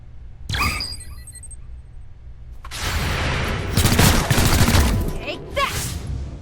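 Bursts of video game gunfire in a squad firefight in XCOM: Chimera Squad, with a rapid volley of loud shots in the middle after a brief opening crack, alongside game sound effects.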